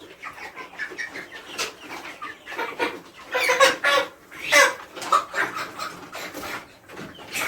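Five-week-old broiler chickens cluck and chirp close by in a backyard pen, a busy run of overlapping short calls that swell louder in the middle.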